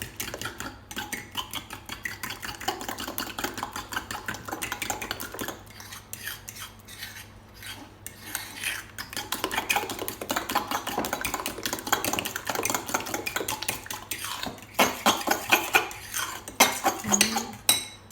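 Cutlery scrapes and clinks steadily against a dish as a flan base is stirred and mixed, with rapid repeated metallic taps and rubbing, close and fairly loud throughout.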